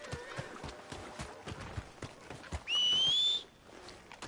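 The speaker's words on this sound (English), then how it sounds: "Damn horse." A horse in Red Dead Redemption 2 neighs loudly in a single rising whinny while hooves clop steadily underneath, close and clear.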